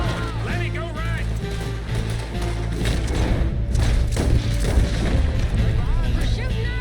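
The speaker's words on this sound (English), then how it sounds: "We're shooting our way out of here, boys." Gunfire shootout during a bank robbery in Red Dead Redemption 2, with repeated close shots and thuds over a dense layer of game noise and music, and voices speaking throughout.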